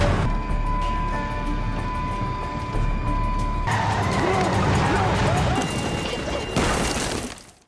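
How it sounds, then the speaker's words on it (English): Film car crash as a car smashes through a barrier and plunges into a ravine: a steady engine roar with skidding, then an abrupt loud impact followed by crunching, scraping debris that fades out near the end. "As a result, the car crashes into the ravine."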